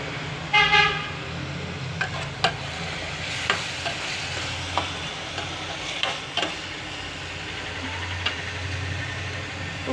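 Masala paste with green chillies frying in a pan, a soft continuous sizzle with a few sharp stirring knocks, and faint car horns toot in the distance.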